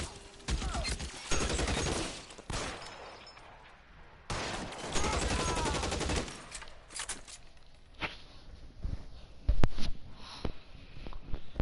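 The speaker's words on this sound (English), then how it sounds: "Just keep shooting, man." Gunfire in the LA Noire video game, with several loud bursts of shots in clusters, separated by quieter stretches of background noise and a few sharp cracks near the end.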